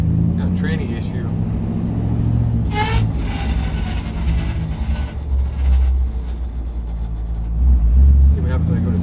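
1963 Chevrolet Impala with a faulty transmission driving along, a loud, steady low rumble with rattly mechanical noise and a brief squealing whine partway through, while a person talks over it.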